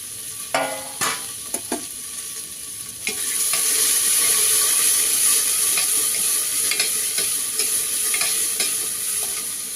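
Potatoes sizzle and fry in a pan, with a few scraping stirs at first before a steady, close hiss of frying takes over.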